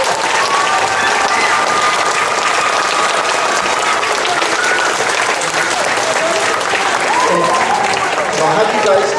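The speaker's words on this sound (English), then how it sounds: "You guys can give them a round of applause while they're walking up here." A high school awards assembly crowd gives a loud, sustained round of applause for the state champion baseball team, continuous dense clapping close by with faint crowd voices mixed in.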